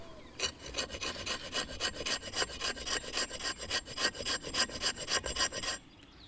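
Knife blade drawn repeatedly through a Work Tuff Gear Hollow King sharpener, giving a steady run of about twenty close, gritty rasping strokes in an even rhythm before stopping abruptly.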